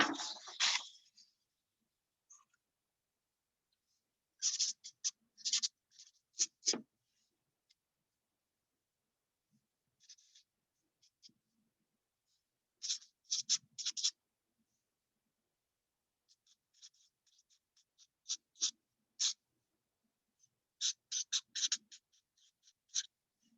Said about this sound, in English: I'm going to start by jotting it down